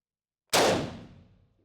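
A single loud rifle shot from an old Carl Gustaf M96 Mauser fired on a range, with a sharp broadband crack followed by a decaying echoing tail.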